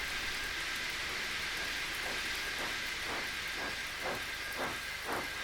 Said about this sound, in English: Henry stayed in the tunnel and blew steam at him